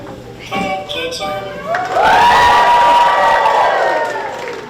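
A crowd cheers and shouts together, swelling to a loud, sustained roar after a brief lull of mixed voices.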